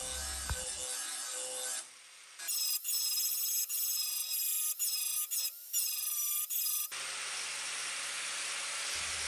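An angle grinder with a grinding disc whines and rasps against metal mower blades in several bursts, stopping and restarting, with quieter gaps before and after.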